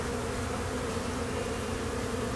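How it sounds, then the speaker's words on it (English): Bees buzzing around a hive, a steady, dense, close hum of many wings that continues unbroken throughout. "I can see the bees."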